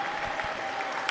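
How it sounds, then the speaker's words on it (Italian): Home crowd applauding at the close of a women's handball match, Casalgrande Padana losing 23–25 to Cellini Padova; steady, moderately distant clapping fills the hall with no voices on top. "mentre la Padana riceve gli applausi, per quanto amarissimi, da parte del proprio pubblico"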